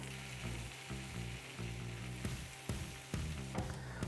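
Bacon with chopped thyme and garlic sizzles in butter in a pan, a steady close crackle broken by a few sharper pops and stirring sounds.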